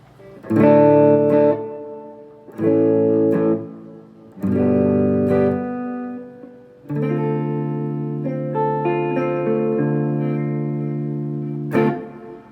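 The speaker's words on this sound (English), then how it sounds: "here's just the power amp with the Cloudburst for some reverb" Electric guitar through a power amp with a Cloudburst reverb pedal, chords strummed in separate bursts, each tail washing out in reverb, then a longer sustained passage with picked notes blooming into ambience.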